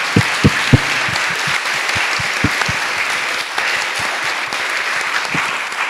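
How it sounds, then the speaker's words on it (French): A live podcast audience applauding, a full, sustained wash of clapping with a few sharp nearby claps standing out, continuing steadily throughout. "on peut applaudir Grinch"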